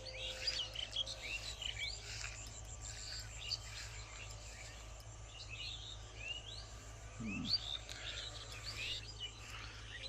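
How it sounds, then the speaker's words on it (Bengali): Small birds chirp and twitter faintly at a distance in a quiet rural garden with green trees and ducks nearby, a steady low hum and insect-like buzz running underneath, no one speaking. "এখানে আসলে পাখির আওয়াজ"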